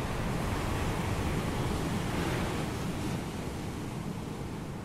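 Ocean waves at Malibu wash in a steady, dense roar of surf that holds at an even loudness throughout, with no voices.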